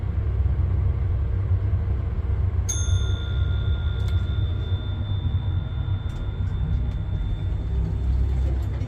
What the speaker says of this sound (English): That's a beautiful bell.